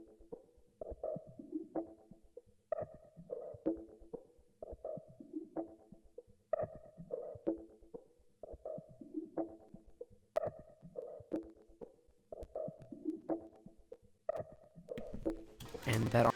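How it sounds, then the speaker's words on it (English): A percussion loop from a downloaded one-shot drum kit plays in a steady repeating pattern, quiet and bouncy, with the same hits cycling evenly throughout and a brief burst of noise at the very end. "I added this perk loop in a one-shot kit I found"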